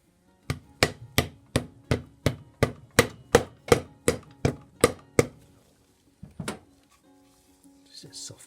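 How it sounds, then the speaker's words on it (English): A run of about fourteen evenly spaced soft-blow hammer taps seating a dust seal on a Yamaha Fazer FZS600 motorcycle front wheel, close and crisp, followed by a pause and two softer knocks. "Just a soft blow hammer."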